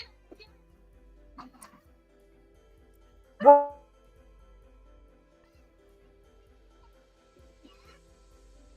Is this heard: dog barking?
yes